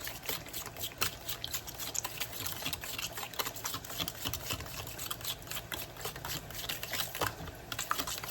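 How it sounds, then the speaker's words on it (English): Eggs being whisked in a bowl for French toast, a fast steady ticking and clattering that is close but fairly quiet and continues without pause. "Just give them a nice whisk."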